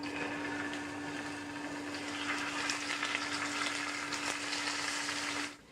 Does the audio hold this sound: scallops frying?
yes